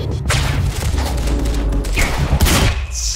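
Gunfire rings out in Quantum Break against armored troopers, slowed down, with booming heavy impacts, a low rumbling drone and a few sharp cracks stretched over several seconds, loud and close.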